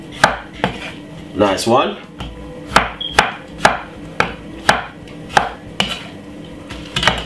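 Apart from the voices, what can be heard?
chopping tomato for salad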